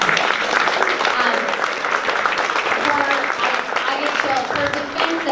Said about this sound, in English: I do want another round of applause for our mayor, Karen Bass.